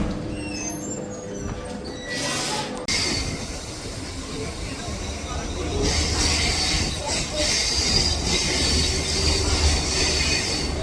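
A fast suburban train running at speed, with steady rumbling wheels, squealing rails and rattling carriages that swell louder after the first few seconds, heard from inside the moving train.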